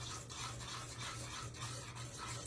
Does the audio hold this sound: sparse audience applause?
no